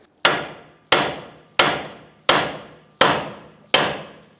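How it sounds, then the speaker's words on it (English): A 5-pound sledgehammer pounds the steering knuckle of a 2007–2015 Mazda CX-9 to shock the ball joint free. Six loud, close, evenly spaced metallic blows ring out, each decaying briefly before the next. "we're going to use a 5-pound sledge right here on our knuckle, see if we can shock our ball joint free"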